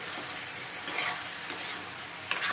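Eggplant and tomato pieces sizzle steadily as they fry in a pan, stirred with soft scraping, close and continuous, with no one talking.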